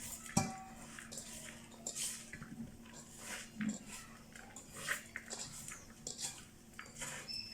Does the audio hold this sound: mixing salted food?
yes